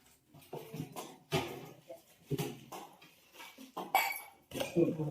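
Metal kadhai and other steel utensils, cooking pots handed out to construction workers, clink and clatter in a string of sharp, close metallic knocks as they are picked up and set down indoors.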